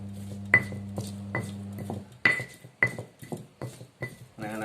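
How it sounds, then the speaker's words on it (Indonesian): Mortar and pestle pounding ingredients for Indonesian corn fritters (bakwan jagung), giving sharp ringing knocks at an irregular pace, about eight strikes with a clinking, hard tone, close and alone over a low steady hum. "ditumbuk seperti ini ya"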